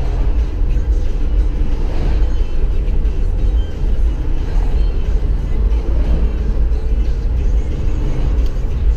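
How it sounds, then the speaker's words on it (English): Busy road traffic with many cars passing forms a loud, continuous low rumble that swells and fades slightly as vehicles go by. "Lots of cars here now, homie. It's getting busy."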